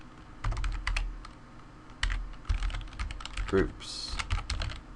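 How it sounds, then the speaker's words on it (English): Fast typing on a computer keyboard makes quick bursts of clicking keys with brief pauses, close and clear, while someone talks softly over some of it. "Failed at typing today."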